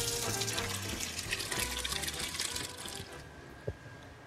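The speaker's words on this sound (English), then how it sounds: "I'm just gonna put a bit of water into the pot." Water runs from a tap into a cooking pot for a seafood stock, a soft continuous trickle and splash with faint kitchen clatter and a single small knock near the end.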